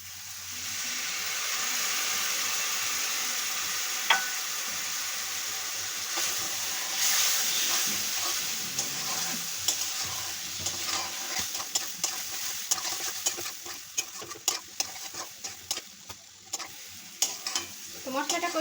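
Spice paste for Bengali duck egg korma frying in a pan over low heat, a continuous sizzle with repeated scraping strokes of stirring that grow more frequent toward the end, no talk.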